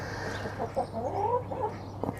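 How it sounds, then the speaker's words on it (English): Two Buff Orpington hens on a UK homestead in winter cluck softly, a few short murmuring calls at moderate distance over a steady background hum, with no talking. "Up at the end, we've got two Buff Orpingtons."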